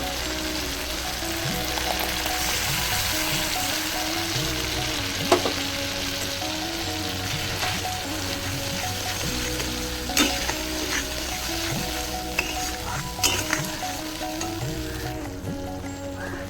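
Spice masala fries in a pan as mustard paste is added for a Bengali egg dish, a loud, continuous sizzle with occasional spatters and stirring scrapes, close up and without talk.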